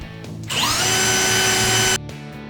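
A power drill spins up and runs at high pitch for about one and a half seconds, close and loud, then stops, drilling holes in an Otter XT X-Over ice fishing sled.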